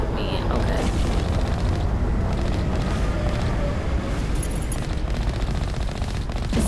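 Mass Effect combat against a Reaper fills the scene with loud, continuous rapid gunfire layered with deep booming explosions that barely let up.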